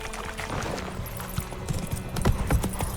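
Roach, a horse in the Witcher 3 video game, gallops with rapid, rhythmic hoof clip-clops that grow heavier toward the end, over a steady game ambience.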